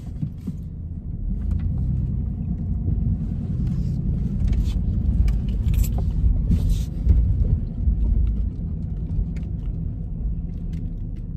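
A car being driven, heard from inside as a steady low engine and road rumble with faint rattles and clicks, and no talking.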